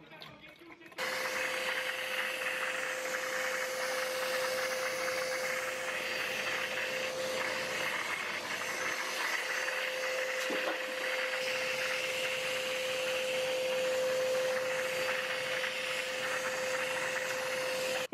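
A Karcher SE 4001 spray-extraction cleaner sprays water over a sofa with a loud, steady whir and hiss that starts abruptly and holds constant nearby, carrying a faint tonal whine.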